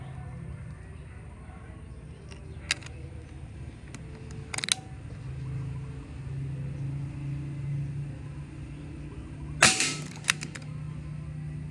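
Toy gun fires Astro pellets in a few sharp, close cracks spaced several seconds apart, over a low steady background rumble with no talking.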